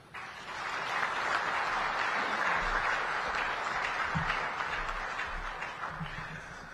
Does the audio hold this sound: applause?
yes